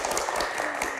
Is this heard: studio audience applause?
yes